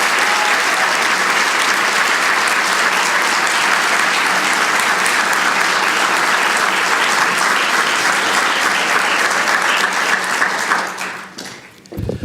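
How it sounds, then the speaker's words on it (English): A large audience at a girls and women in sports day ceremony applauds award winners with loud, sustained, dense clapping that fades out near the end. "Let's give a huge round of applause for all of the award winners."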